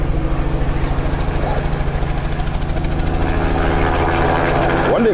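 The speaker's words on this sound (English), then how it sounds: "the actual sound of the chopper's rotor blades" A helicopter flies low overhead on a wildlife rescue operation in the African bush. Its rotor blades keep up a loud, rapid, even chop that holds steady throughout, with a faint high tone at times above the thudding.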